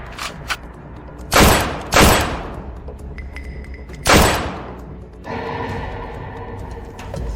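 Several heavy gunshots blast close by in irregular bursts, with booming tails, followed by a mechanical clank and lingering noise.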